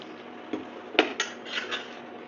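A spoon mixes boiled potatoes with spices in a pan over a low flame, a handful of light scrapes and clinks against the metal spaced over a couple of seconds, with no talking.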